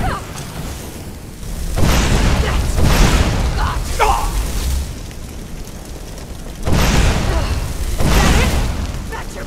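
Firebolt spell blasts in Skyrim, modded and played on Legendary difficulty, come as two pairs of heavy booming bursts with whooshing tails, loud and close, separated by quieter game noise and some talk.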